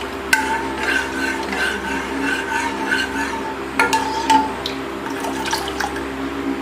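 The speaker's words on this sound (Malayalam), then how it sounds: "പാല് നമ്മള് ഇളക്കി" Milk being stirred in a pan while it thickens for fruit custard, a steady wet swirling with soft scrapes and a few sharper clinks partway through, close and alone without any voices.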